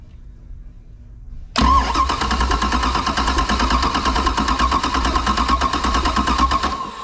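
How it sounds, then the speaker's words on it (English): A GM engine with a second-generation HEI ignition system cranks and catches after a quiet start, then runs on loudly with a steady, even drone for several seconds. "let's see what we have cranking over"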